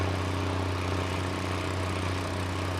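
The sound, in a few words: 150 horsepower tractor engine in Farming Simulator 19 video game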